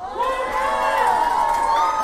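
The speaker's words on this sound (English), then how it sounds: "Got a little juggalo love in the crowd. I can hear the whoops." Wrestling event crowd whooping and cheering throughout, a dense mass of high voices with sustained shouts, loud and steady for the whole stretch.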